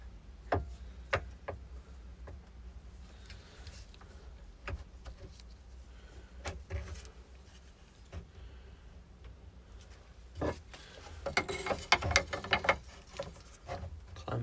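Clamps ratchet and click tight around a river table build, with sharp scattered clicks and rattling mechanical snaps that bunch into a busier flurry near the end.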